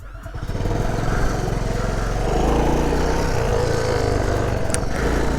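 A 1984 Honda Cub 90 motorcycle's small single-cylinder engine runs steadily close by, its buzzing putter rising slightly as it pulls away, with a brief clink partway through.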